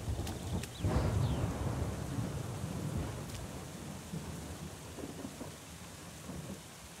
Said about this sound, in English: No, so it's still raining.